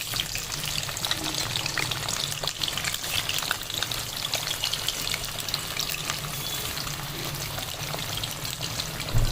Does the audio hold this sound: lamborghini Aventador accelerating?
no